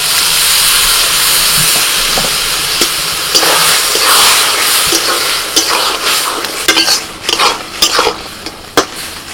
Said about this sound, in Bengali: সিদ্ধ করা ডালটা দিয়ে দিচ্ছি।